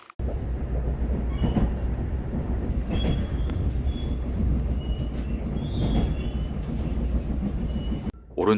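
A train idling at a remote platform in Gangwon Province, waiting before departure, gives off a steady, loud low rumble and hum, with faint squeals and creaks above it and a brief drop near the end.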